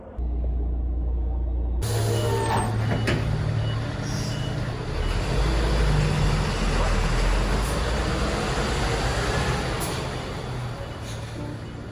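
A 4x4 camper truck arriving for an MOT test, its engine starting up abruptly and then rumbling steadily at close range, with a loud, broad roar that swells mid-way and eases off toward the end.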